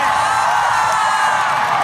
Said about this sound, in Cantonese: 喂，俾啲掌聲 Jeremy 先。